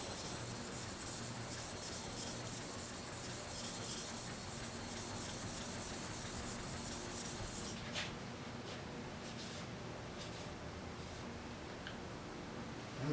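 Steady, close rubbing of a block plane iron worked back and forth on an 800 grit sharpening stone, a continuous gritty scraping that eases to a softer, quieter stroke partway through.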